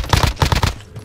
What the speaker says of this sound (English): He's shooting. I'm under fire!